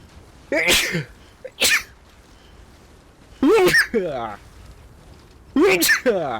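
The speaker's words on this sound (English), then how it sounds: "You're gonna sneeze again" Repeated sneezes from a video game character in Death Stranding, four sharp bursts spaced unevenly over several seconds against a quiet background.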